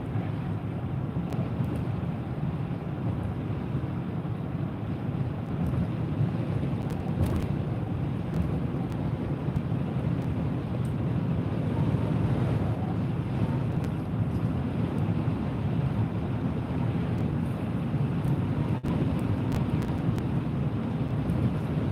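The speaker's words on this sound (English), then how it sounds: "We got pretty extensive wind gusts through this area still." Strong storm wind gusts buffeting steadily and loudly throughout in Faribault, Minnesota, a constant low roar with no talking.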